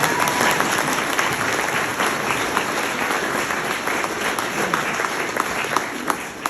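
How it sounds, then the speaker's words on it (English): Sustained crowd applause at a public talk or rally, a dense, even wash of many hands clapping at close range with no break, and only faint voices underneath. "That deserves a round of applause"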